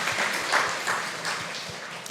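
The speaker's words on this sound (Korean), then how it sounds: "다시 한번 격려와 감사의 박수 드립니다." Applause from a church congregation during a Sunday worship service, a steady wash of many hands clapping that stays even and moderately loud throughout.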